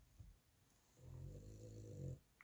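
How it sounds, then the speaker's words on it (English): A Boston terrier snores indoors in a single long, low, rumbling breath lasting about a second, faint and close, with quiet room tone before and after. "we got my dog snoring again"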